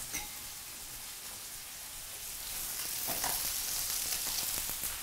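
Udon stir-frying with cabbage and onion in a hot pan, a continuous close sizzle that grows louder and more crackly partway through as the ingredients are tossed, with no talking.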